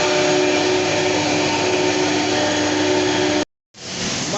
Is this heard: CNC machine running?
yes